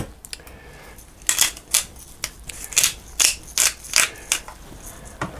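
A pepper grinder cranks over seasoned eggs, giving a run of about ten crisp, close grinding rasps in quick, fairly even succession.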